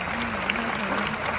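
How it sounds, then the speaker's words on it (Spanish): Audience applause at a dolphin show in Valencia, a steady wash of many hands clapping at moderate level, with a faint tonal hum running underneath throughout. "vamos a despedirle con un fuerte aplauso"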